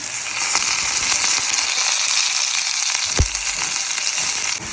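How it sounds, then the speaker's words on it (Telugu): Onion and curry leaves fry in hot oil in a pan for carrot egg bhurji, giving a loud, steady sizzle with crackles and the scrape of stirring throughout, close up and without voices. "ఆనియన్ వేస్తున్నాము. కరివేపాకు కూడా వేస్తున్నాము."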